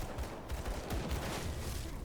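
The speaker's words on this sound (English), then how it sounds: "Take out some gunmen because their gunshots are annoying me." Gunfire from gunmen in a video game rattles in dense, overlapping bursts that run nonstop through the whole stretch, loud and close with no talking.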